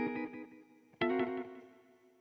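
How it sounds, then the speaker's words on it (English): A synth in the Mela 2 iOS app with distortion switched on, playing two gritty, buzzy sustained chords, the second attacking sharply and fading out, with no voices. "still got something going on. That is because distortion is on."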